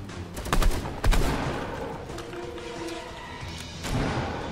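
Fortnite gunfire, a few sharp close shots early followed by scattered quieter reports and rattling game sounds in the background.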